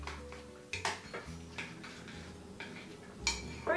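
Spoon clinking and scraping against a pot while chocolate is stirred into boiling milk, a few irregular close taps and scrapes over a quiet background.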